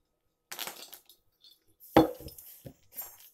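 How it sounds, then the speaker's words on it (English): Nuts being chopped with a knife on a board for chocolate chip bars, a few sharp close knocks and clattering taps separated by short silences. "And just chop them up."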